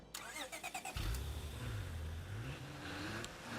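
A car engine in State of Decay 2 starts with a few sputtering cranks, then settles into a steady low rumbling idle, fairly close and alone.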